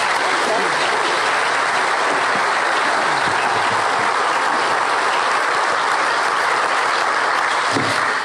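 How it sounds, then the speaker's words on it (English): A school audience of teachers and students at Billanook applauds steadily as Australia's Foreign Minister is invited to the stage, dense clapping filling the hall at full volume from start to finish. "Could you give a big round of applause as we invite her to the stage?"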